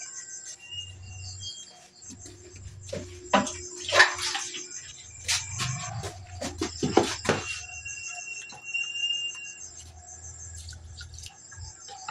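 Water pours and splashes into a rice cooker pot in bursts, with clinks and knocks in between and a steady high insect hum in the background.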